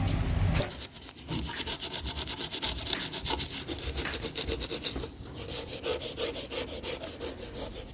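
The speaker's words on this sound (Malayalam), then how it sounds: "നമുക്കിതിനി ആ ഒരു സ്വിച്ച് ബോർഡിൽ തേച്ച് കൊടുക്കാം" Toothpaste dipped in vinegar is rubbed onto a switch board, a close, rhythmic scrubbing and scraping with quick repeated back-and-forth strokes, heard alone.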